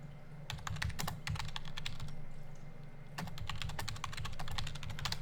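Rapid, steady typing on a computer keyboard during a Star Wars: Galaxy of Heroes live stream, with dense key clicks running continuously over a low hum, close and fairly loud throughout.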